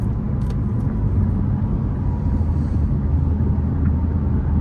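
A 2021 Infiniti Q50 Red Sport 400 engine drones steadily while driving, a continuous loud low rumble with road noise from inside the cabin and no talking.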